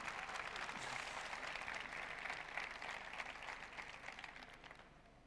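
Audience applause for a photographer at a Xiaomi phone launch event in Spain: dense, steady clapping from a large crowd, fairly faint and distant, tapering slightly toward the end.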